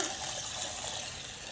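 Tap water running into a pan in a kitchen sink after making kettle corn, a steady close rushing gush with no talk.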